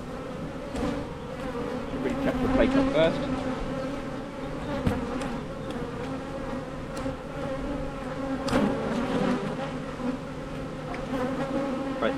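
Honeybees buzz steadily around an open hive during artificial swarm control, a dense close drone that swells and fades, with a person speaking briefly over it.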